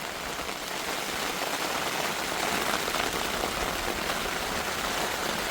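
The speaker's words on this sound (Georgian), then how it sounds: "აი, ეხლა იტესტება სერიოზულ წვიმაში ჩვენი კარავი." Heavy rain pours onto a camping tent by Paravani Lake, a dense, constant drumming hiss of drops hitting the fabric, loud and unbroken throughout.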